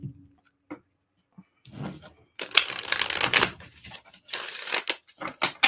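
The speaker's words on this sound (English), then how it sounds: "I'm having a hard time shuffling today." Tarot cards being shuffled by hand, quiet taps at first, then bursts of crisp riffling and flapping in uneven spurts separated by pauses.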